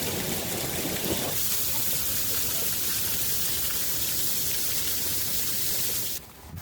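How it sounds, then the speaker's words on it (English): Hail pours down in Alabama, countless ice pellets slamming into the ground in a dense, unbroken hiss and patter that stays loud and steady, then cuts off abruptly near the end. "Watch this powerful hailstorm in Alabama as countless ice pellets slam into the ground"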